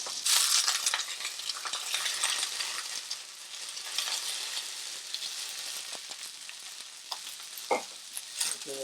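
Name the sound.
Atlantic salmon pieces frying in a crowded pan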